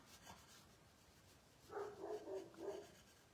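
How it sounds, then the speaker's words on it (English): A dog fusses and barks at squirrels outdoors, a short cluster of faint, distant yaps and whines in two brief bursts against a quiet background. "And that's my dog, one of them, fussing at the squirrels."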